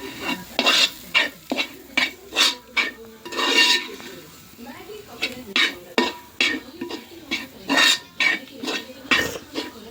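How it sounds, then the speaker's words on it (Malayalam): A spoon stirs mutton curry spices in a pan with rhythmic metallic scraping strokes, close and fairly loud, over a light sizzle of frying. "നമുക്ക് നല്ലപോലെ മിക്സ് ചെയ്യാം കേട്ടോ"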